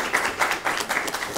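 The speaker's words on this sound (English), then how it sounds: "A round of applause for that." A conference audience at a climate action forum applauds, with scattered, fairly quiet claps in an uneven patter over a short stretch.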